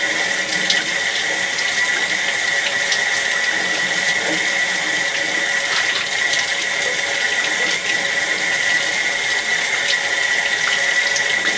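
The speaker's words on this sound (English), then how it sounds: "So running water while we do this will also highlight any low spots where the line has shrunk or sunk." Water runs steadily through a drain line during a home inspection, a constant loud rushing and trickling with faint mechanical rattles, heard alone without talk.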